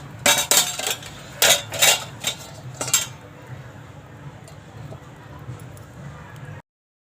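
A metal lid set down on a pan over a cooking moong dosa, several close, bright clanks and clinks in quick succession, followed by a low, steady sizzle.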